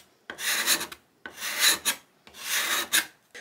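A Veritas Variable Burnisher is drawn along a steel card scraper in three separate rasping strokes, each a close, scraping rub followed by a short silence.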